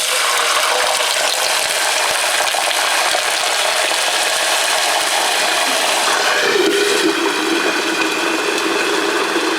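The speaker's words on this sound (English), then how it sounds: "The next thing we're going to do is put 4 cups of water in" Four cups of water pour steadily into hot onion-flavored oil for koshari, a loud, continuous broadband rush and sizzle that holds throughout and shifts in tone near the end, with no talking.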